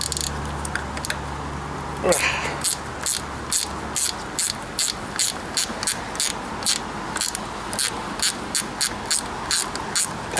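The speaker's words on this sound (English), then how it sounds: "These ratchet wrenches, I do like them." A ratchet wrench tightening block nuts while replacing rubber mulch hardware, clicking in quick regular bursts of rapid pawl ticks, close and crisp, after a brief mechanical rattle at the start.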